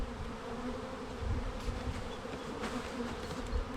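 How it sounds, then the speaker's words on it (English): Half a cup of honeybees poured from a scoop, a dense, steady buzzing drone of many insects, close and continuous throughout. "So I'm going to take a half a cup of bees in the scoop,"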